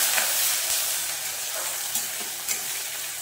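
Chopped onion fries in hot oil with whole garam masala, cinnamon, cardamom, cloves and mace, giving a steady close sizzle with a few faint stirring taps.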